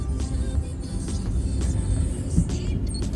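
Cars idle and creep through a traffic jam on a Delhi road, a dense continuous engine rumble with passing vehicle noise and no speech.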